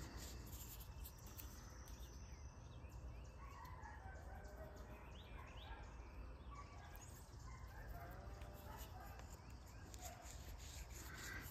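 A bow drill spins a spindle against a fresh Virginia pine board outdoors, giving a steady, continuous rubbing and squeaking friction that carries on without a break, with crickets and a distant rooster crowing in the background.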